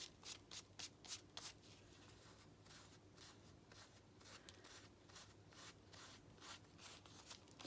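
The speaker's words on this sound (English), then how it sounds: "When I rub it with my fingers, I can feel the paper." Soft, quick rubbing and scratching bursts of fingertips working over inkjet image-transfer paper on fabric, close and faint, in irregular strokes over a low hum.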